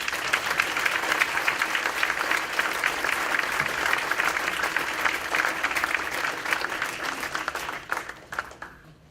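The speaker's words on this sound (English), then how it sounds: "Please give them all a round of applause." Sustained applause from an audience at a high school hall of fame ceremony, steady crowd clapping for about eight seconds before tapering off into a few last claps.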